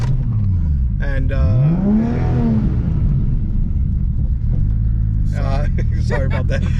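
A 700 hp Toyota Supra engine revs high in a rising and falling sweep, then settles into a rumbling idle, heard close up while people talk over it.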